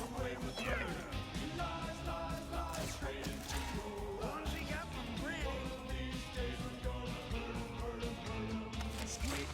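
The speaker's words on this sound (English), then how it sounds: "It's a cat." A cartoon cat meows repeatedly in the video game Mewgenics, layered over busy game music and effects that run continuously throughout.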